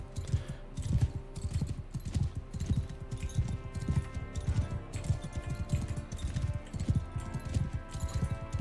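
Horse hooves clip-clop in a steady, loud galloping rhythm while riding in Mount & Blade II: Bannerlord, with the beats repeating quickly throughout.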